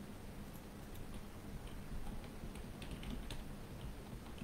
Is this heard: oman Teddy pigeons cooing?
no